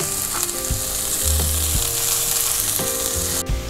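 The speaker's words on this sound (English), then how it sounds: "we are going to go ahead and add our cabbage to our skillet here with the garlic and the olive oil" Cabbage sizzles loudly in a hot skillet with olive oil and garlic, a steady crackling hiss with occasional clanks of a utensil against the pan.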